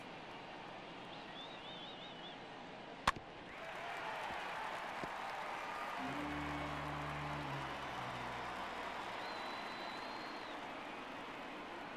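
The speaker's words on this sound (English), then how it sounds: "Crowd locked in right now." A stadium crowd in the MLB The Show 22 baseball video game keeps up a low, steady roar, swelling slightly after a sharp crack, with faint tonal sounds beneath.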